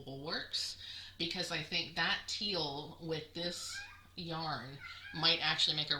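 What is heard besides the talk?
cat Momo meowing in the hallway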